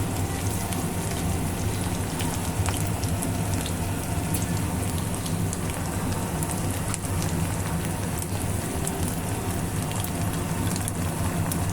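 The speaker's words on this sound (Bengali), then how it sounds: "সুন্দর করে ভেজে নিব দিয়ে দিব স্বাদ মতো লবণ" Small mola fish fry in oil in a pan, giving a dense, even crackling hiss that holds unbroken for the whole stretch, close and loud like steady rain on a surface, with no talking.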